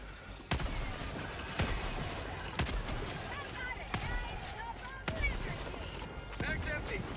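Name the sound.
gunfire emptying a magazine, from a video game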